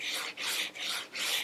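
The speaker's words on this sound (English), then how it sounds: "I'm sanding out those tool marks, and I'm using some 100 grit sandpaper" Close, rhythmic rasping of 100-grit sandpaper on a radius sanding block stroked back and forth over a wooden guitar fretboard, four even passes with brief pauses between them.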